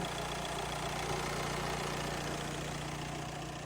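A car engine idles steadily after a carbon cleaning, a continuous mid-pitched hum with a low throb, close and unchanging throughout with no talk.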